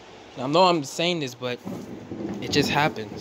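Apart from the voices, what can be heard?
thunder from a thunderstorm outside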